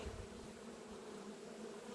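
Honey bees hum steadily over the hive frames at an apiary being readied for the cold season, a dense, continuous close buzz with no voices.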